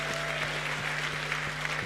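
Church congregation applauding at a Father's Day Sunday service, a dense sustained hand clapping from a large crowd filling the room, moderately loud and steady with a low hum underneath.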